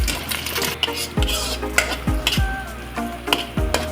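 Eggs crackle and sizzle in a hot pan with a steady frying hiss, broken by a few utensil scrapes and stirring clicks close by, without any voices.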